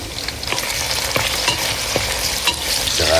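Corned beef and smoked fish fry in a pan with a constant hissing sizzle, and a spatula scrapes and clacks against the pan every half second or so.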